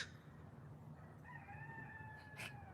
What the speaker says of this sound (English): We've got a little crow rooster